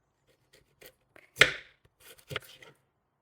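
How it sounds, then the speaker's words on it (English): Knife chopping food on a cutting board while preparing Senegalese chicken yassa, a handful of sparse, irregular dull knocks with one louder cut, close and fairly quiet between pauses, no talk. "I'm only chopping this up just because it's going to be a little bit easier to then blitz it all together."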